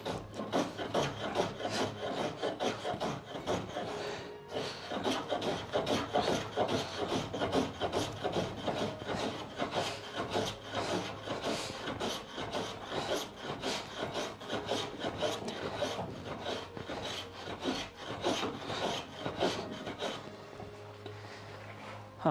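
A hand plane is pushed over old painted wooden door surfaces in a steady run of rasping shaving strokes, one after another, close and fairly quiet, with no talking.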